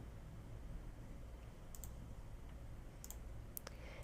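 A few crisp mouse clicks, some in quick pairs, over a steady hiss of background noise.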